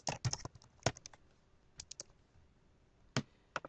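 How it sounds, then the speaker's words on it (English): Close computer keyboard typing in short irregular bursts of sharp key clicks, separated by quiet pauses, with no talking. "here you can type anything random like see destroyers"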